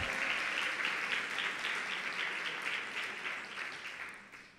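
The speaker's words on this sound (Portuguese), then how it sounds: "Vamos aplaudir ao Senhor" Church congregation applauds in praise, a soft, fairly distant patter of many hands that keeps a steady texture and slowly fades over a few seconds.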